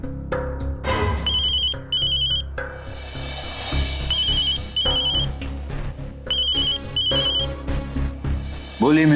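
A telephone ringtone repeats several times in short electronic bursts, loud and close, with a voice and other sounds between the rings.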